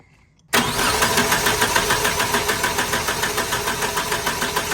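Four-cylinder car engine cranking over on the starter during a compression test, a loud rhythmic chugging that kicks in abruptly after a short quiet moment and keeps a steady, even pulse to the end.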